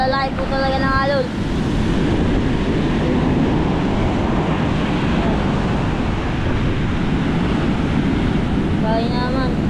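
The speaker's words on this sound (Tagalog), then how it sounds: "Yun ang alon." Big storm surge waves breaking on the Bucana shore, a constant loud churn of surf and wind, with a person speaking briefly at the start and end.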